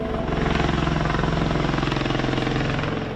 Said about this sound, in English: It takes off like a helicopter and, with an aeronautical miracle of engineering, rotates its jet engines to fly fast like a plane.